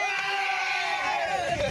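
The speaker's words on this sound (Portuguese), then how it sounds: "Muitos torcedores aqui animando aqui no Sub-17!" Crowd of fans cheering at an under-17 football match, a steady dense roar of voices with whoops and yells filling the whole stretch at moderate loudness.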